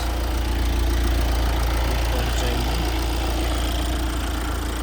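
A 2020 Kia Sorento 2.2 litre turbocharged diesel engine idles at a steady, low rumble, loud and close, with a constant droning hum and no variation.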